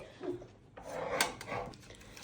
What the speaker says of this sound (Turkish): Şu an çekmeceleri karıştırmanın sırası değil.